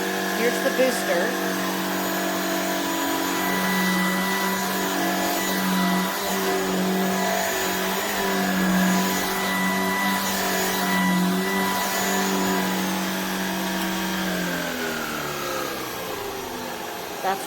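A Shark Pet cordless stick vacuum runs on booster mode, its steady close motor whine holding level and then dropping in pitch near the end as the power winds down.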